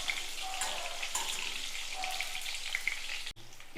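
Brinjal pieces fry in oil in a pan for a Tamil eggplant curry, a soft, even sizzle with scattered bubbling pops, cut off by a brief drop near the end, no voices heard.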